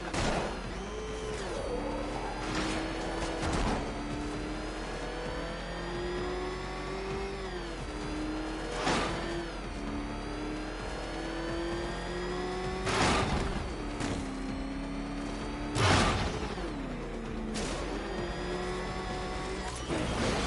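The Batmobile in Batman: Arkham Knight races around a track, its engine revving and droning close and loud through repeated gear shifts, broken by several sharp impact bursts, with no talk over it.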